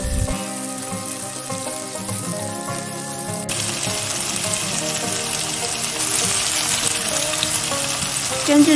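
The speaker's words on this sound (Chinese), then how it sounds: "再来，我们来煎鸡肉。" Chicken pieces pan-frying until golden for pesto spaghetti, a loud, steady, close sizzle that grows busier toward the end.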